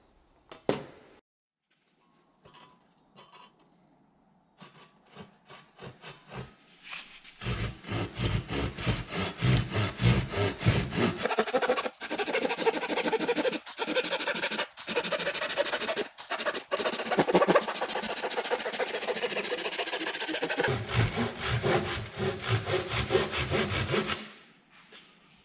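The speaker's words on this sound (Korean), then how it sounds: "자, 이제부터 얘를 한번 이 톱으로 잘라 보겠습니다" Hand saw cutting a thin 9mm MDF board along a marked line, a long run of fast rhythmic rasping strokes, loud and close, framed by a few light taps and setup knocks before and after.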